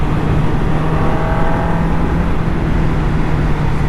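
MV Agusta 750 Brutale motorcycle engine pulling with the throttle open in sixth gear, a loud steady drone with wind rush, constant and close for four seconds with no speech.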